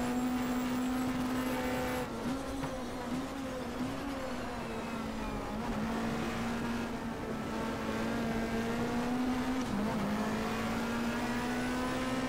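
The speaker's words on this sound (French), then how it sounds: "je donne tout ce que j'ai dans le moteur de la voiture" A race car in the BTCC 1997 video game holds a high, steady whine at full throttle, its engine pitch dipping and climbing briefly during gear shifts, loud and continuous with no talking.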